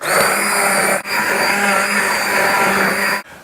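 A steady, loud mechanical whir of an immersion blender churning through butternut squash soup, running continuously with two brief dips as it pauses.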